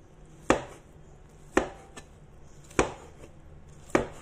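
A knife slices vegetables thinly on a cutting board for Taiwan-style salted vegetables: four crisp, evenly spaced chops with quiet gaps between, close and alone.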